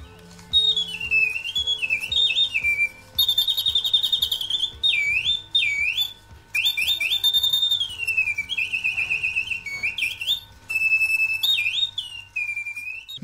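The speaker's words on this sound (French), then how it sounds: "le but c'est de voir tout le mécanisme tout en ayant le chant de l'oiseau" A restored antique mechanical singing bird automaton, likely an old Reuge movement, trills and warbles loudly in repeated whistling phrases with short gaps, its high sweeping chirps riding over a faint mechanical whir.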